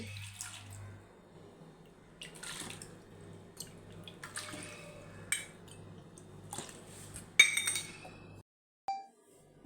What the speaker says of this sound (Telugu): వాష్ చేసుకున్న బార్లీలోకి నాలుగు కప్పుల నీళ్లు పోసి